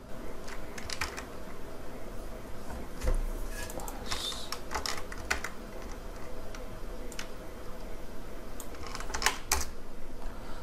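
Computer keyboard typing up close, a steady run of quick clicky keystrokes with bursts and short pauses over a faint background hum.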